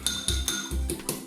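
Eggs beaten in a bowl for a cheese and onion pie, a whisk or fork clinking against the bowl in about six quick, even strokes, close and clear.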